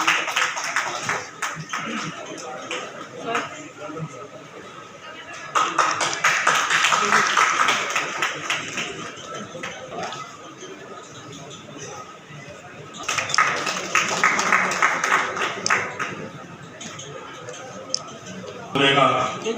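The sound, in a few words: audience clapping to welcome guests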